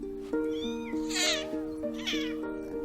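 Ten-day-old kittens meowing in repeated high, thin cries, close and fairly loud, over a steady low background hum.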